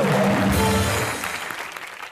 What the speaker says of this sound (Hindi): इस हैदर के लिए जोरदार तालियां